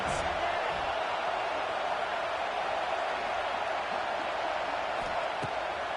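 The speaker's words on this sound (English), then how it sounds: "Listen to this crowd just shaking the girders of this place" Stadium crowd at a football video game, a constant dense roar of many voices filling the space, steady and loud with no breaks throughout.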